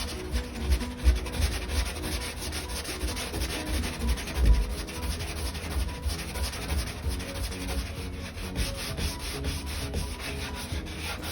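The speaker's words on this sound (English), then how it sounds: "you're going to start sanding it down" A sanding block rubs back and forth over a dried drywall patch covering a nail pop, a steady close scratchy rasp with rhythmic strokes continuing for several seconds.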